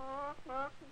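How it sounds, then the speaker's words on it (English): A hen that has just laid an egg cackles loudly and close, two drawn-out squawking calls followed by the start of a third, with faint background noise. "the hen cackled because she just laid an egg"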